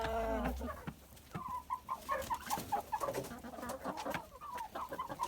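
Chickens, Barbezieux hens among them, cluck and call outdoors on snow, several birds close by in a busy, overlapping chorus of short clucks and murmurs with a low thump at the start.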